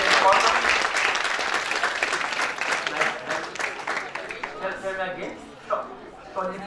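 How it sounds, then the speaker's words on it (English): Audience applause rises loudly at a civic dialogue event and then thins into scattered claps, with voices talking over it as it fades. "Please give Putco Mafani a big hand of applause"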